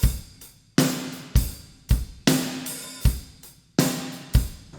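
Drum kit with a room microphone blended in, kick and snare in a steady rock pattern with crashing cymbals, sounding fuller and more roomy, loud and alone.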